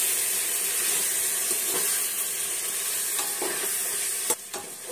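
Maharashtrian Khandesh-style khichdi being stirred in a pan after two spoons of chili powder go in, giving a steady hissing sizzle with scraping strokes and a sharp clink near the end.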